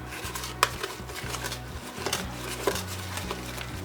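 Homemade tomato spray mixture being stirred in a container, with light clinks and scraping taps at an irregular rhythm, close and fairly quiet over a low steady hum.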